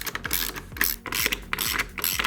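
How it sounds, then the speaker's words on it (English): Torx screws are being undone on a 2021 BMW S1000RR M Sport motorcycle, with a ratcheting tool making rapid repeated clicks in short bursts, close up and with no talking. "let's unscrew these torque screws."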